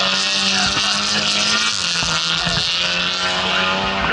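A Mazda RX-7 race car at a Tunerfest time attack event, its engine roaring loudly and continuously at high revs with harsh rasping tone and brief tyre chirps, close to the listener.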